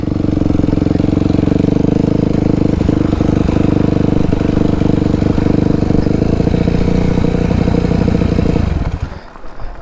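A dirt bike engine rumbles close by during backyard riding, a loud steady drone with rattling clatter that cuts off sharply near the end, no talk over it.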